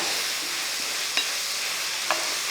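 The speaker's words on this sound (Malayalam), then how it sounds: "ഇതവിടെ നല്ലപോലെ ഒന്ന് ഇളക്കി കൊടുത്ത് ഇത് നല്ലപോലെ ഒന്ന് വഴറ്റിയെടുക്കണം" Chopped onions sauteing in a pan, a soft, even sizzle with two faint scrapes of stirring, close by and without speech.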